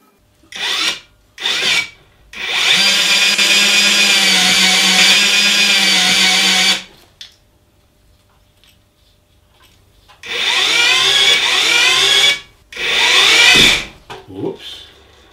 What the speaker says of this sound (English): If you use one of these drills, you'll know just how much power they have.